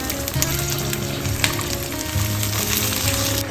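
Steady, close sizzling and crackling of green chillies and curry leaves frying in hot oil, with occasional pops and no voices.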